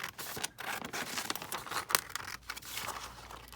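Scissors cut through a sheet of paper for a junk journal, giving a run of close, crisp snipping and rustling sounds with one sharper cut near the middle, and no voices.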